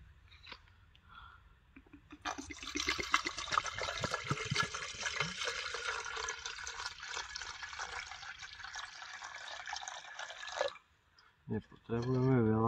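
Water is poured into a percolator coffee maker in a steady, splashing stream lasting about eight seconds, after quiet handling sounds. A short voice follows at the end.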